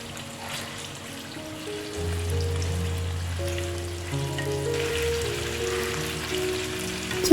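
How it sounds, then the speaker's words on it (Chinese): Chicken pieces dropped into plenty of hot oil in a wok over medium heat sizzle steadily, a continuous close frying hiss that holds even throughout, with no talk over it. "锅中加入多一点油，油热后，将鸡肉块加入，过一过油。"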